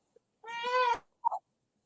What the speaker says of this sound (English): That's a cat, man.